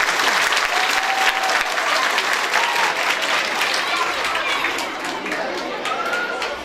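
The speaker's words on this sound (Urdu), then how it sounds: "میری طرف سے ذرا زوردار تالیاں بجا دیں اسکول انتظامیہ میں" Loud, sustained applause from a large crowd at a school prize-giving ceremony, with some chatter mixed in, fading slightly toward the end.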